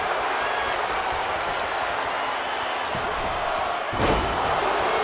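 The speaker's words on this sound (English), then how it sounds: "Oscar slamming Jill." A body slams onto a wrestling ring mat at a Christmas-themed indie wrestling show, one heavy thud near the end heard over a constant crowd roar.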